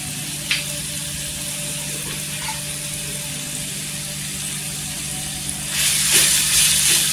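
Grated potato sautéing in oil in a pan for a fasting-style batata kees, giving a steady close sizzle with a few small clicks and a louder burst of frying near the end, no talk.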